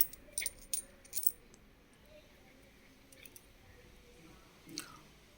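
Foreign coins from the 1920s, including French two-franc pieces, being handled, with several quick metallic clinks early on and a softer clink near the end over a quiet room.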